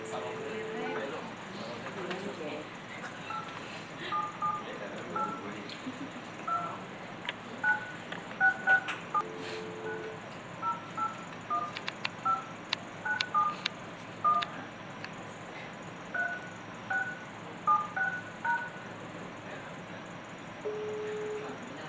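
A telephone number is dialed as a string of DTMF key tones in quick clusters, followed by the call connecting, under a steady hum with people talking nearby.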